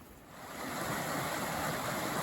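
Spring water welling straight out of the ground at Wahkeena Springs in Oregon's Columbia River Gorge, a steady, close, broadband rush and gurgle that swells slightly after the first half-second and continues without talk.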